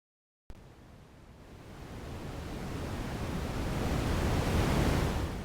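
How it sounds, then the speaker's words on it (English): Broadband pink noise from a Serge synthesizer module switches on abruptly and holds steady, slowly swelling louder and brighter over several seconds, with no voices. "We have something that's called pink noise,"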